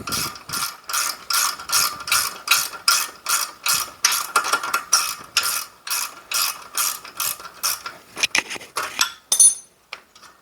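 A speed wrench ratchets a threaded rod free while installing a Brunswick GSX accelerator motor kit, rapid regular clicking strokes close by, slowing into a few scattered clicks at the end, with no talk.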